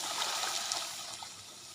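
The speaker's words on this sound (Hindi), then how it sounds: "अब ये जी पानी लेके आ रहे हैं गर्म पानी अब ये इसमें मिक्स करना है।" Hot water poured in a steady trickling stream into sugar in a pot while making halwa, a continuous close splashy pour with no talk.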